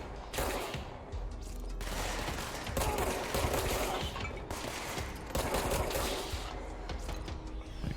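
Rapid bursts of gunfire from a weapon in the video game Control crackle in several dense volleys over eight seconds, separated by short gaps, with mechanical clatter and no talking.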